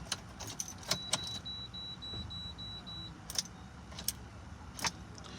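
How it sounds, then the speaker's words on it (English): Keys jangle sharply in a low-mileage Chevy Impala with a no-start fault, a thin electronic chime pulsing briefly while no engine cranks or catches, leaving quiet cabin hiss between the clinks. "if I try to start it,"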